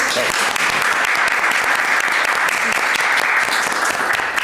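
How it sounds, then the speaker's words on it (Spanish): A live audience applauds loudly after a Spanish-language interview on the future of visual culture, dense, continuous clapping at even strength from start to finish. "Un aplauso"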